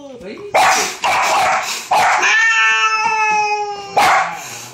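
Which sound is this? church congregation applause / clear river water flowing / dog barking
dog barking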